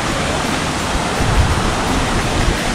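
A waterfall in Guam beside a swimming hole, a loud steady broadband roar of falling water close by, continuous throughout with no voices.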